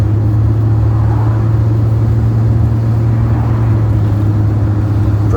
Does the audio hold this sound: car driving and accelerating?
yes